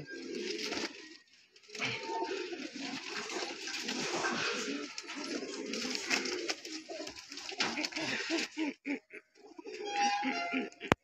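Racing pigeons coo inside a home loft, a dense, fairly loud chorus of overlapping birds with brief pauses and scattered rustling toward the end.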